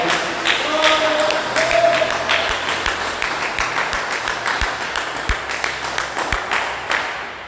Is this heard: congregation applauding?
yes